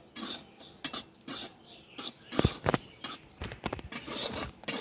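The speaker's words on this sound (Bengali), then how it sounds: "এই কড়ার মধ্যে দিয়ে দেবো লবণটাকে এবারে নাড়াচাড়া করে লবণটাকে আমাকে ভালো করে ভেজে নিতে হবে" Salt stir-fried in a hot kadai, a granular rustling hiss broken by a run of scrapes and light metallic knocks of a spatula against the pan, close and moderately quiet, with no talk.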